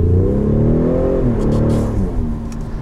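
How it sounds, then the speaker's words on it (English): A 2019 Ford F-150 Raptor on wet roads kicks down its automatic transmission and accelerates hard, the engine note loud and close, climbing and wavering as revs rise, with no speech over it. "We'll go ahead and see how the automatic does for kickdown."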